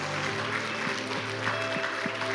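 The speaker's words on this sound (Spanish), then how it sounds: "Podemos dar un fuerte aplauso a nuestro Dios" Church congregation at a Sunday service clapping for God, a modest, fairly distant patter of applause under sustained tonal music or organ-like hum, with faint background voices.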